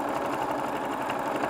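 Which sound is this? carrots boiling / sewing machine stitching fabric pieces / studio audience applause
sewing machine stitching fabric pieces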